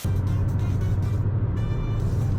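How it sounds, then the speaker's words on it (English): An 8th generation Honda Civic Si engine drones loudly from inside the car, a steady low hum with a faint rising tone, heard alone without speech. "Let's hit VTEC real quick."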